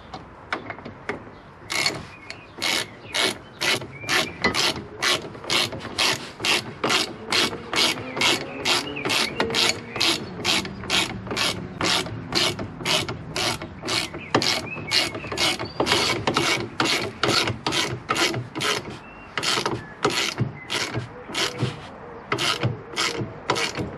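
A ratchet tightens the bottom shock absorber bolt on a Mini R50/R53 rear trailing arm, giving a long run of rapid, evenly spaced clicking strokes, close and fairly loud, with faint creaks between strokes.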